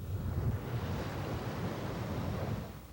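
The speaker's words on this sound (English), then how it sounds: "what seems like square miles of rushing water, frantically searching for a place to go" Rushing flood water pours across submerged roads, ditches and fields in a steady, loud roar of broadband noise, close and continuous, fading slightly at the end with no voices.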